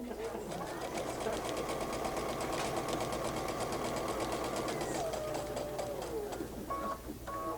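A sewing machine stitching a bag runs steadily with a fast, even whirring hum, close and continuous for several seconds before slowing near the end, with faint talk underneath.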